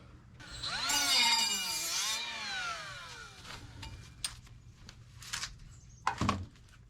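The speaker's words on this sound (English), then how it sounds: "Now I can just grind it back to that." An angle grinder bites into the exhaust pipe of a 1978 Datsun 620 4x4, a loud close whine rising and falling for a few seconds, followed by scattered clanks and metal knocks.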